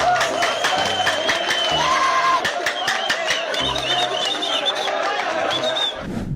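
A man applauds with dense clapping while laughing loudly, close and continuous, with a crowd murmuring and cheering faintly in the background.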